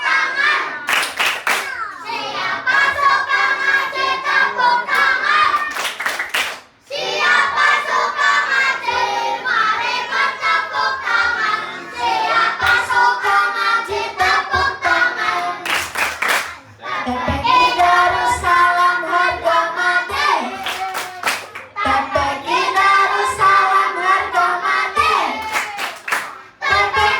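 A group of children at a Quran study group (TPI) claps along in rhythmic bursts during a chant, with loud, dense clapping broken by short pauses and voices chanting over it.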